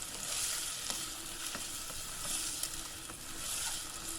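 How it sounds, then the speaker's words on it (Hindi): Onions and curry leaves fry in a pan for a masoor dal, giving a continuous bright sizzle with occasional stirring clicks and scrapes, close and steady, with no talking. "इसे हम प्याज के साथ ही फ्राई करेंगे कड़ी पत्ते को"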